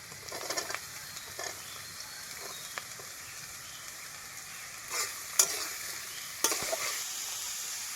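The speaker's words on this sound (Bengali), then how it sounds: "এবার আমি পেঁয়াজটা দিয়ে দেবো" Onion fries in a wok with capsicum and carrot for cheese Maggi, a quiet continuous sizzle with a few distinct spatula scrapes and knocks.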